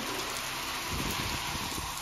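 Steady rain falling, a dense continuous wash of drops with some heavier patter on a surface close by, no voices.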